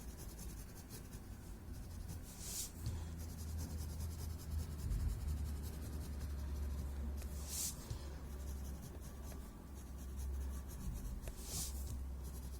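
A pencil shades graphite onto paper in steady, soft scratching strokes, close and quiet, with a few brighter rubbing swipes standing out in an otherwise hushed room.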